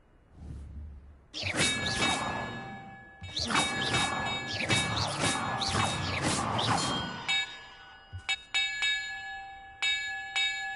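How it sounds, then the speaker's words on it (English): Loud metallic bells rung in the Hogwarts Legacy video game, several clanging strikes with long shimmering rings that overlap, followed by lighter separate chimes near the end. "Perhaps the map contains clues about the order I'm supposed to ring the bells in."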